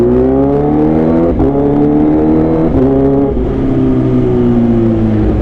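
A Kawasaki H2 motorcycle fitted with an Aero Pro Race exhaust revs loudly and close, its pitch climbing in repeated rising sweeps broken by quick shifts, with no voices over it.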